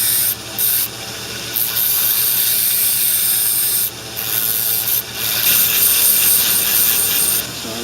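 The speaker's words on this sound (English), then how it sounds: "we're just taking off these little burrs and cleaning it up" Small burrs are ground and cleaned off 3D-printed dinosaur metal castings, giving a continuous loud rubbing, grinding hiss with a few brief dips, close by and with no talking.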